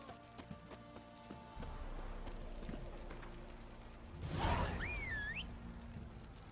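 Horse hooves clip-clop at a gallop in The Witcher 3, a steady rolling beat under game music, with a whooshing surge and a whistling sweep near the end.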